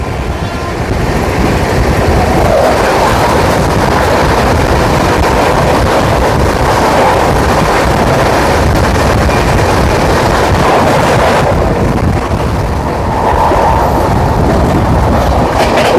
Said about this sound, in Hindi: 12311 नेताजी एक्सप्रेस जो आ रही है, ये आ रही नेताजी एक्सप्रेस